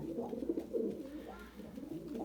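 A tumbler pigeon coos softly in low, rolling phrases, repeated several times close by with a faint background hum.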